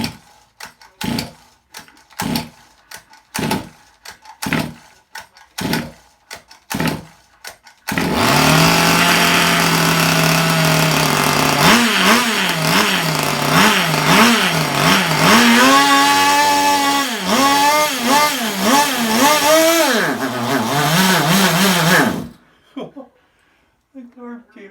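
A Zenoah RC racing engine on a cold start: a run of separate pull-start yanks, then the small two-stroke catches and screams for about fourteen seconds, blipping and revving up and down before cutting out abruptly when the carburetor comes loose.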